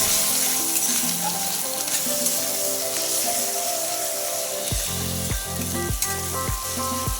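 Garam masala, Kashmiri chili powder and turmeric sizzle and fry steadily in a hot pan, with a run of rhythmic stirring scrapes in the second half, close and loud with no talk.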